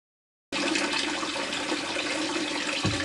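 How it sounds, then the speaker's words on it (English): City water flows from an RV's outlet through a DIY shower in a box truck camper. After a short silence a loud, steady rush of running water starts abruptly and continues unbroken. "run it off of the city water outlet and check and see what that flow rate is"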